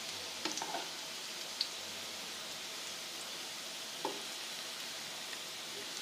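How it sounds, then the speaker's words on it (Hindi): Chillies fry in a pan until light brown, giving a soft, steady sizzling hiss throughout, with a few faint clinks of a utensil against the pan. "ये देखें मिर्चों को जो है बस आपने लाइट ब्राउन करना है।"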